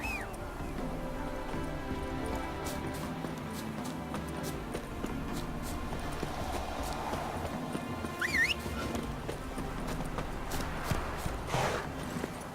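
The horse Roach in The Witcher 3 clip-clops along at a steady rhythm, hooves thudding continuously at moderate distance under ambient game sound, with a brief whinny-like sound partway through.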